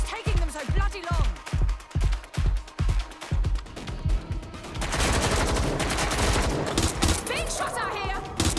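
Gunfire in a Watch Dogs: Legion shootout: a rapid string of sharp shots at a steady rhythm, then a denser burst of automatic fire mixed with game noise and voices.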